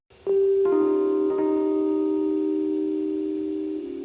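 A steady synth tone in a liquid-style electronic track, without pitch modulation, holding one clear sustained pitch after a soft onset and a couple of brief attack changes, alone and fairly loud.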